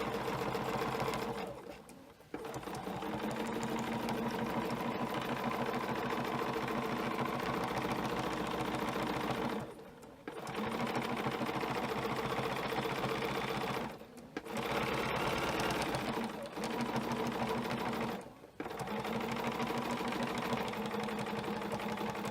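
Sewing machine running fast while stitching a snowflake ruler pattern, a loud steady mechanical whir with rapid needle clatter, broken by three or four brief stops and restarts, close up with no talking.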